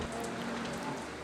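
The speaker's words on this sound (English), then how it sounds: "The rain pours down at the cable car station at the foot of the mountain." Heavy rain pours down at a cable car station at the foot of Mount Etna in Sicily on a May day, a steady, dense hiss of drops striking surfaces close by with no pauses.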